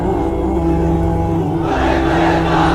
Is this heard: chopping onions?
no